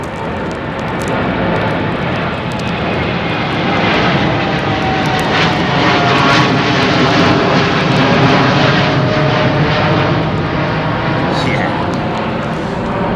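Big jet engines roar loudly and steadily at Heathrow under a low, thick cloud base, a dense sustained rumble that swells slightly mid-way and holds for the full stretch.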